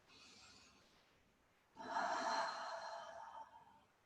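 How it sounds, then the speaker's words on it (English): Slow, deep breath drawn in and let out during a yoga class, quiet and close, with a brief soft inhale followed by a longer, fuller exhale. "Take a deep breath in and out."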